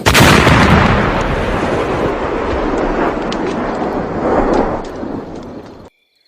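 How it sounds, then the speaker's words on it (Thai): A loud, rumbling explosion effect from a Thai radio-style drama bursts at full strength, then rolls on in a long, crackling decay with a second swell before cutting off abruptly into silence. "เสียงระเบิดดังขึ้นอีก"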